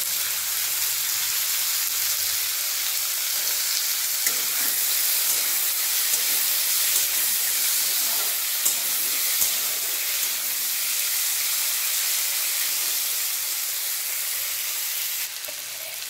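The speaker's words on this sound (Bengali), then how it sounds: "পেঁয়াজ ভাজা হয়ে গেছে, এরপর দিয়ে দেবো টমেটো কুচি।" Onions and chopped tomato frying in a pan, a continuous loud sizzle and hiss with occasional faint stirring clicks, steady for the whole stretch with no talking.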